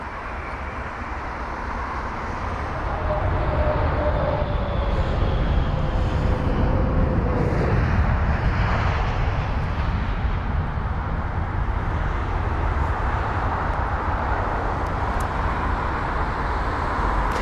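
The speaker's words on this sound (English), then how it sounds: "This Boeing 7879 Dreamliner arriving from a 9 hour and 25 minute long journey" A Boeing 787 Dreamliner lands at London Heathrow with a loud, steady roar of jet engines and rushing air that builds over the first few seconds and then holds, broad and continuous, with no talking.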